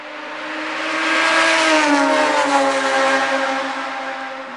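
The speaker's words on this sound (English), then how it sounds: "We've got a fast car coming because we're on the world famous Appalachian Trail" A single fast car passes on a road beside the Appalachian Trail, its engine whir swelling as it approaches, peaking loud and close in the middle, then fading away as it drives off.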